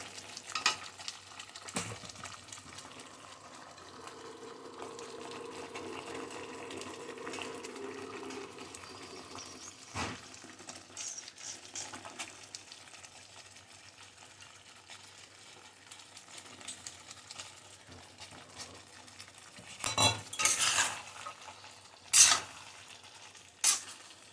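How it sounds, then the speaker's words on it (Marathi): Fresh cashew nuts frying in hot oil while being stirred, a faint steady sizzle with occasional scrapes and clanks of a utensil against the pan, louder knocks near the end. "आता आपण घालू याच्यामध्ये काजू"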